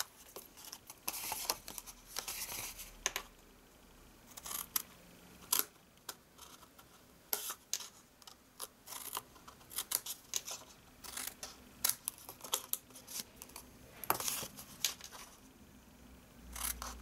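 Scissors snip through card stock while a small gift box is made, with repeated short crisp cuts in irregular bursts, fairly quiet and close, with no talking.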